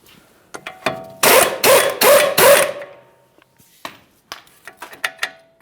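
A wrench works loose the sway bar link nut on a 2013–2020 Ford Fusion front strut, with a few loud, rapid ratcheting bursts close by, followed by scattered sharp metallic clicks and taps.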